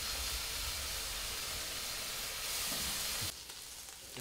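Thin bacon sizzles in a frying pan in a hotel kitchen, making a steady, fairly loud hiss that drops off abruptly near the end. No one speaks.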